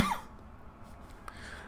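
A single short cough brought on by allergies, close and fairly soft, followed by near silence.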